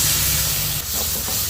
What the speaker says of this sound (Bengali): তার জন্য অল্প করে জল দেবো।